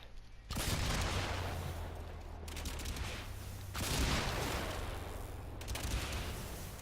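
Heavy gunfire and explosions from a Zarr gun and its cluster bombs in the video game Warframe, a dense continuous barrage of blasts and booms with bursts swelling around the second and fourth seconds.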